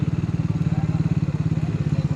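A motorbike engine idling close by at a checkpoint on the road to Bagdana, a steady rapid thudding pulse, loud and continuous throughout.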